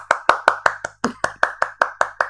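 One person clapping alone in a home kitchen, about a dozen sharp, steady claps in quick even rhythm, close and fairly loud, with no voices.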